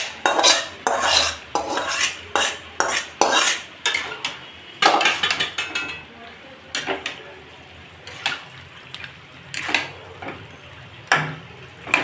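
Marinated chicken with spices for butter chicken gets stirred in a pan, a series of sharp clanking scrapes of a utensil against the metal pan, rhythmic at first and then sparser.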